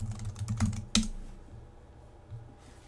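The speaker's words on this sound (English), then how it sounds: "Let's type in" Quick bursts of keystrokes on a computer keyboard, a short run of close clicks ending in a firmer tap, then quiet with a faint stray click.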